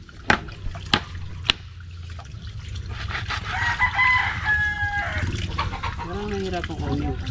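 Chickens cluck and a rooster crows nearby, with a few sharp knocks at the start and a voice talking over the birds.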